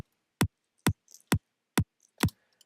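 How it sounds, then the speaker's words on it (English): Electronic top kick drum with the low end filtered out, struck five times at an even tempo. Each hit is a short, sharp click standing alone in silence, with faint quieter ticks between some hits. "The first one is a top kick with all the low end taken out"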